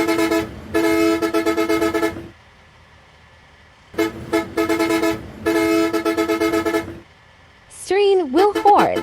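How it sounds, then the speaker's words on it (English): The third bus horn in a sound pack for the Bussid bus driving game sounds twice as long, loud musical blasts with a pulsing rhythm, each about two seconds, followed by a warbling, sweeping tone at the end. "Third horn."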